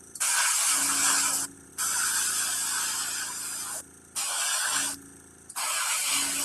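Airbrush spraying paint on a miniature, four close, loud bursts of airy hiss separated by brief pauses, with a low compressor hum between them.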